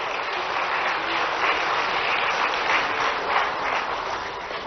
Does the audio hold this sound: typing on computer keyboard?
no